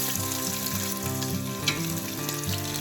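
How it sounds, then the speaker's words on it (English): A handful of two kinds of onions hits hot oil in a pot while making Nigerian stew, giving a loud, dense, continuous sizzle at close range with a faint tonal layer beneath it and no talking. "When our oil is ready, we're going to take a handful of both kinds of onions,"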